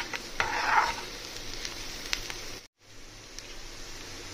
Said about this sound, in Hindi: अब इसको थोड़ा देर भूनूंगी।